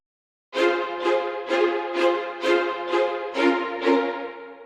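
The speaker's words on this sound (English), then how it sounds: "I layered it with a violin staccato for fuller sound" Brass section staccato layered with violin staccato in an electro swing J-POP track, punchy short chords repeating in a steady offbeat pattern, about eight bright hits with quick decays, alone and fairly loud.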